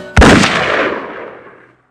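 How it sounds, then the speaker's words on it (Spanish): One loud, close gunshot bangs sharply, its boom echoing and slowly fading out over about a second and a half. "Se pudo escuchar un disparo que reinó por todas partes."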